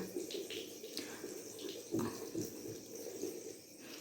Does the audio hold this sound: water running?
yes